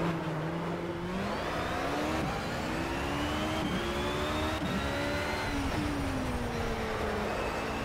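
A race car engine roars continuously in the racing video game Project CARS, its pitch rising and falling through gear changes as the car slides on track, loud and steady with no speech.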